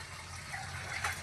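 Rice being washed in water during traditional village cooking, a continuous close sloshing and gushing of water with no voices.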